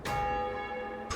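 A church bell in the video game Blacktail tolls once, a clear sustained metallic ring with long humming overtones that slowly decays before a second strike begins at the end.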